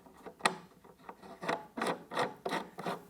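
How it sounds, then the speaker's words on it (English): Knob threaded back onto a combo chair after lubricating the threads: repeated short raspy rubbing and grinding turns, close and moderately loud, in an uneven rhythm. "line up the handle holes and reinsert your knob"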